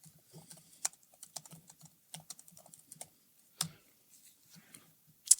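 Typing on an unfamiliar computer keyboard during a software demo, a steady run of close, crisp key clicks in uneven bursts with brief pauses and a louder stroke at the end.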